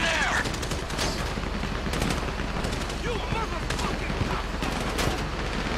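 Rapid gunfire from Grand Theft Auto 5 during the Paleto Bay Score heist, dense bursts of automatic shots crackling continuously at high volume with a voice speaking briefly over the din.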